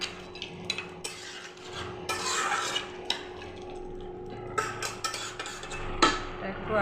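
A spoon scrapes and clinks against a pot while lau shukto with added milk is stirred, irregular soft scraping strokes with occasional sharper taps, close and fairly quiet.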